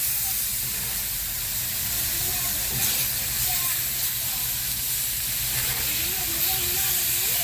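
Food sizzles on a Blackstone griddle just after being flipped, a steady loud hiss of frying with crackles throughout, and a voice speaks faintly underneath.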